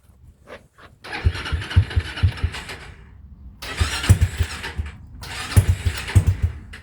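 A TrailMaster 300 XRS go kart engine with a carburetor that needs adjustment cranks briefly, then catches and sputters into a rough, uneven idle that swells in two loud bursts, close by with no talking.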